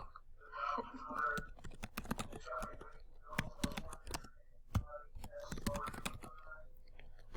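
Computer keyboard typing during an online math class meeting, with irregular clusters of key clicks set against murmured, whispery voices in the room.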